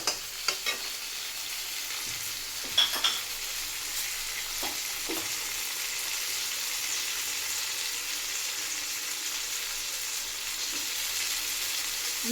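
Spices, including cumin powder and turmeric, frying in a pan: a steady soft sizzle with a few faint clinks of stirring, fairly quiet and with no talk.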